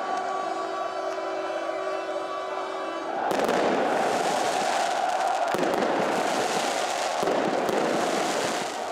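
Football supporters set off fireworks outside the stadium, a dense crackling roar of firecrackers bursting in and continuing for several seconds after a quieter start, loud and close with crowd noise mixed in.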